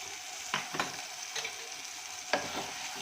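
Ground masala paste goes into a pan of frying onions and tomatoes, giving a soft steady sizzle broken by a few scraping stirs and splashes, close and fairly quiet.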